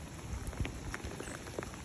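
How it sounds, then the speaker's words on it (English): Heavy rain after a night-long downpour on a residential street, running toward a street drain: a faint, steady hiss of falling water with scattered drips and splashes, no voices. "it's raining quite hard, has been raining all night"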